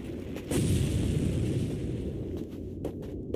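Rapid Gatling gun fire rattles through an anime fight scene, a dense, continuous roar of booming shots that swells loudly after a brief opening and carries steadily to the end with no talking.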